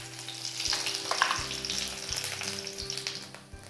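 Whole garam masala spices, bay leaf and cumin frying in hot oil in a pan, giving a steady close crackling sizzle with occasional stirring, no voices.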